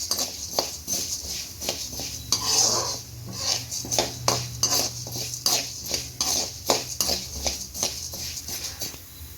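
Urad dal being stirred and dry roasted in a pan for a Gongura pachadi, with steady rhythmic scraping and clinking of a spoon against the metal pan, close by and continuous.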